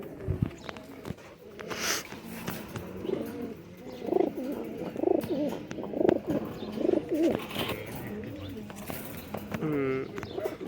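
High flyer pigeons coo in a repeated, throaty rhythm at close range, with a few chirps mixed in and a murmur of voices in the background.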